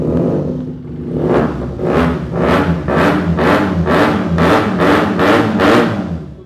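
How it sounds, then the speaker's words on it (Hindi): A Benelli 600i motorcycle revving hard in repeated bursts through a loud aftermarket exhaust, about nine throttle blips in a steady rhythm, close and loud. "इसमें लगा हुआ है एक्सेल का एग्जॉस्ट। इसकी भी आवाज़ सुना देते हैं आपको।"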